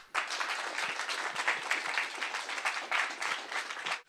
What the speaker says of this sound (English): Let's get a round of applause for Victor.